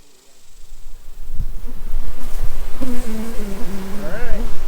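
Honeybees buzzing around an opened hive at an 1887 Kansas farmhouse, a loud close drone with wavering pitch as bees fly near, under breezy outdoor background noise.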